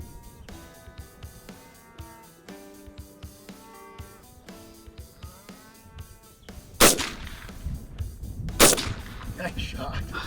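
Two sharp, loud freehand gunshots ring out about two seconds apart during outdoor plinking in Manitoba, after a stretch of quieter tonal background sound.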